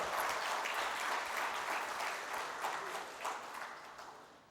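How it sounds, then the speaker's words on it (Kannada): A large audience at a Kannada HR professionals' conference gives a big round of applause, dense and sustained clapping that fills the hall and slowly tapers off. "ದೊಡ್ಡ ಚಪ್ಪಾಳೆ"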